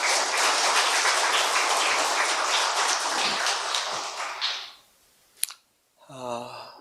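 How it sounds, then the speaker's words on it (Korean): A church congregation claps to welcome a guest lecturer, a dense round of applause lasting several seconds before fading, followed by a sharp tap and a short burst of speech. "박수로 환영하겠습니다."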